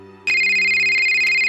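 A mobile phone ringtone bursts in suddenly and loudly as a bright, steady electronic melody, pulsing gently and continuing to the end.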